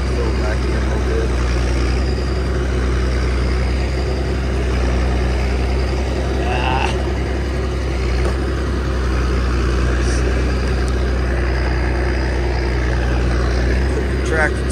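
A Massey tractor pulls a plow across a field, its engine a steady low drone with a constant mechanical rumble throughout, close and continuous, with some faint rattles and clanks over the top.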